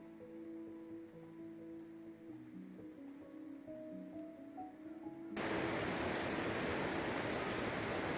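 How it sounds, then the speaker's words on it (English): Steady, dense outdoor rain hiss starts abruptly partway through on a mountain trip, following a calm stretch of sustained tonal humming. "It's raining."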